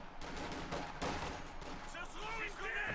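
Gunfire rattles through a Company of Heroes 2 battle, with rapid shots over continuous battle noise as a commentator speaks over it.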